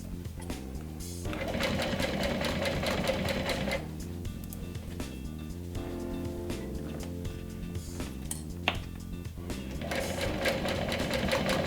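A sewing machine stitches a small backpack, running over the first line of stitching in steady motor bursts that stop and start, with short pauses between runs.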